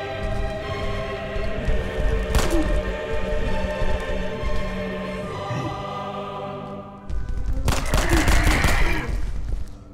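Horror video game gunfire mixed with a dense, noisy game soundtrack: a sharp shot cracks early, then a heavier, louder burst of fire swells near the end.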